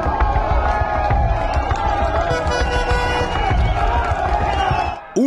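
A dense, loud crowd roars and cheers continuously, with shouting voices blending into a steady wash of noise that cuts off abruptly near the end.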